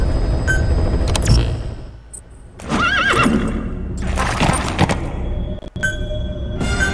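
Horse in Metal Gear Solid 5 giving two loud whinnies over clip-clopping hooves and game ambience, the neighs close and prominent with a few sharp clicks between.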